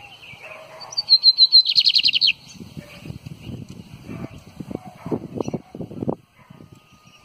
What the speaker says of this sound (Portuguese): Vou fazer um videozinho dele agora. Eu tô com a Nagreia pra preservar.